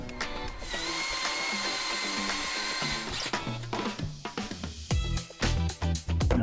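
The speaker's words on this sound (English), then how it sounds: "So we're gonna drill some new holes," A power drill bores new holes into a beam on a boat at an abandoned marina, whirring steadily and then cutting in and out in short bursts with loud motor pulses near the end.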